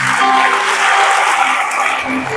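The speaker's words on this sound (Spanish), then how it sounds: "Denle por favor un aplauso al Rey" A church conference congregation breaks into loud, dense applause that holds steady for a couple of seconds.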